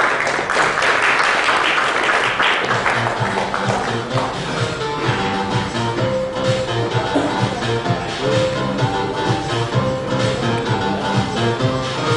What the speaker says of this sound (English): A round of applause for the winners, please.